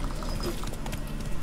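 Horse galloping in the video game The Witcher 3, a quick run of hoofbeats that stays steady and moderately close while someone talks over it.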